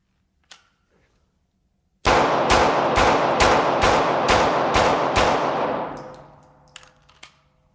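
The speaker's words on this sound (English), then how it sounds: "So I'm actually going to try to just go ahead and rapid fire, spread it out around the vest more realistically." Rapid-fire gunshots striking a body armor vest, a burst of about nine sharp, loud cracks in quick even succession, followed by a ringing tail and a few scattered clinks afterward.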